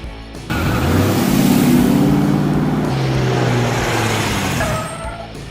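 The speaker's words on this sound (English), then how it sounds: "Flatbed truck." Flatbed truck engine running steadily and loudly, with a low droning hum and some pitch shifts as it revs and changes gear, close by and without talk.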